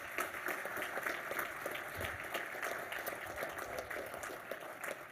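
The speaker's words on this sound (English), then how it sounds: "give one final round of applause" Applause from an audience at a college athletics hall of fame ceremony, a continuous, fairly faint wash of clapping with no voices over it.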